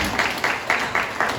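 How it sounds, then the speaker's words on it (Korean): A short burst of applause at a company all-hands meeting celebrating staff service anniversaries, heard as a few rhythmic waves of clapping from a modest indoor group. "뜨거운 박수로 함께 축하 부탁드립니다."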